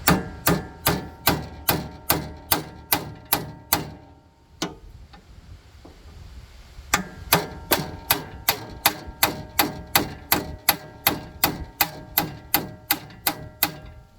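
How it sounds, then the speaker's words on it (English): Steady, rapid metallic taps of a ball peen hammer striking a punch on a John Deere 175 steering assembly, a ringing strike every half second, pausing briefly midway before resuming at the same brisk pace. "I just got a little punch here and a ball peen hammer, and we're just going to start tapping down"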